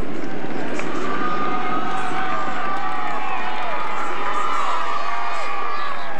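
Roadside crowd at the Tour de France in the rain at La Clusaz, a loud continuous wash of cheering and shouting with whistle-like tones, sustained throughout as spectators greet passing riders.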